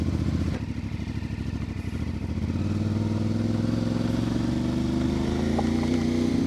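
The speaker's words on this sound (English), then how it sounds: "Bike doesn't really want to start." CFMOTO 450MT motorcycle struggling to start in the cold, a starter cranking briefly before the engine catches into a rough, rising idle, close up.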